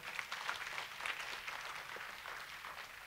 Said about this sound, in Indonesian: Beri tepuk tangan untuk Tuhan saudara.